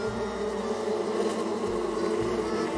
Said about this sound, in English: Looks like a great place to get those bees for Compton.